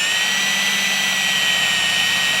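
A steady, loud high-pitched whine of a power drill drilling holes in sheet metal, running continuously, with a constant mechanical drone and no pauses.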